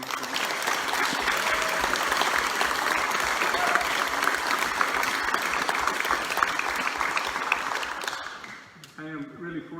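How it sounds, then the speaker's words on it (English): A room full of people gives a sustained round of applause for a musician's supporter, dense clapping that holds steady before tapering off near the end, where a voice begins to speak. "So I think we could give him a round of applause."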